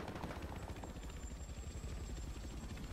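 A helicopter in the video game Battlefield Hardline drones with a steady rotor thump and engine hum, continuous and fairly loud throughout.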